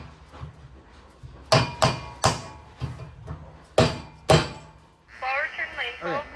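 Six sharp metallic hammer strikes on a roller bearing in a GSX rear roller assembly ring out at uneven intervals, each with a brief ringing decay, followed by a voice speaking.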